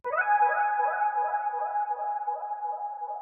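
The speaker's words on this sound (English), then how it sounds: "And I thought that this fits really well in reverse." A reversed guitar accent rings on a sustained, swelling tone with a repeating wobble, heard alone and steady.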